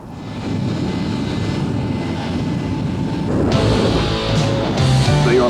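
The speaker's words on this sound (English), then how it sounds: "When you light the afterburner on this baby," Jet dragster engine with its afterburner lit, building from a steady roaring whine to a louder, harsher blast halfway through, heard close and powerful with no talk.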